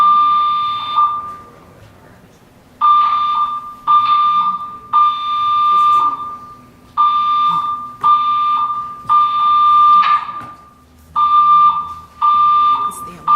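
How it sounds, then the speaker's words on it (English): Building fire alarm sounding during a public hearing: loud, repeated electronic tone bursts of about one second each with short gaps, continuing throughout, with voices in the room underneath. "That's the alarm."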